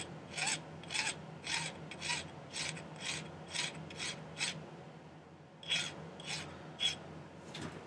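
A hand file squares off the end of a small piece of silver during silversmithing work on a turquoise ring. Around a dozen close, raspy back-and-forth strokes repeat steadily, with one short pause partway through.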